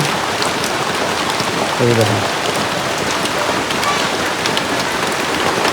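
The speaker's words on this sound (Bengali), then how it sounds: "বৃষ্টি আপনার ভালোই জোরে নামছে" Heavy rain pours down steadily and loudly, a dense continuous hiss of drops hitting surfaces, with a brief voice or low sound near the middle.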